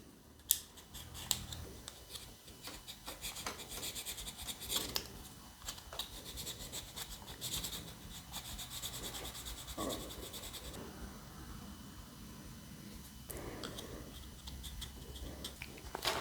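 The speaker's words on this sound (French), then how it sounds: "On peut enlever ici le poutis qui a débordé avec du papier de verre." Sandpaper is rubbed over excess putty on a plastic model airplane, giving a quiet, close, continuous scratchy rasping with irregular strokes and a few brief louder scrapes, with no talk.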